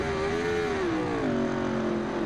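An Aprilia Tuono V4 1100 Factory 2015 motorcycle in the racing game Ride 2 drones loudly and up close, its steady engine note sliding down in pitch as it downshifts, with no talk over it.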